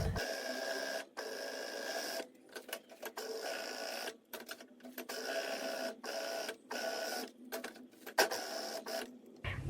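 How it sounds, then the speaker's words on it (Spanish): A sewing machine overcasts the raw edges of a cut fabric rectangle, running in close, rapid bursts of stitching separated by short pauses. "Vamos a sobrehilar todo el contorno de nuestro rectángulo."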